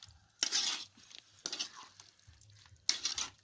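Chicken pieces with turmeric stirred in a pan for pickle, three scraping, sizzling bursts of spoon against metal with short quiet gaps between them, close and fairly soft.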